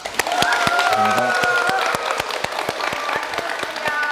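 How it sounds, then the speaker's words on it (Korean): A studio audience claps steadily for a Korean medicine doctor appearing as a guest on a talk segment, a dense run of close hand claps lasting throughout, with a voice and tonal sounds rising briefly over it early on. "여러분 큰 박수 주시기 바랍니다"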